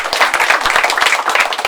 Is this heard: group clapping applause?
yes